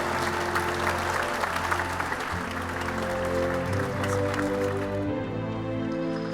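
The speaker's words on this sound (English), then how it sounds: "Folks, keep that applause going for Anders Sörman-Nilsson." An audience applauds at the close of a Pulse Talks session on a future without creatives, dense sustained clapping that fills the room, then tapers slightly toward the end.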